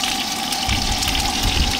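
Hot liquid pours in a loud, continuous gushing stream close by, splashing steadily for a couple of seconds with no talk.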